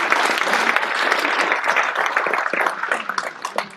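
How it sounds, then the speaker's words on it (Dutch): A lecture audience at a public medical talk on cardiology claps for a doctor joining the stage. The dense applause is fairly loud and steady, then thins slightly toward the end, and no one speaks over it. "Applaus voor dokter Lynch."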